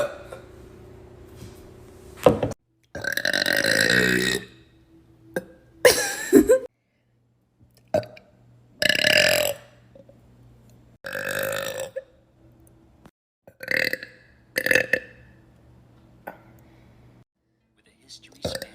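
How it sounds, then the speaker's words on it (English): A person lets out a series of loud, drawn-out burps close to the microphone, some long and rumbling, others short, separated by silent pauses. "So here's some burps."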